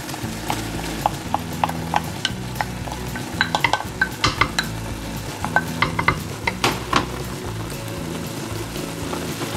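White onions and garlic sauté in a pan with chili, sizzling steadily under frequent spoon stirs and scrapes that click against the pan. Close and moderately loud, without voices.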